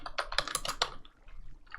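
Fast typing on a Swedish computer keyboard during a Minecraft game session: a close, rapid run of clicky keystrokes, then a pause and a few more taps.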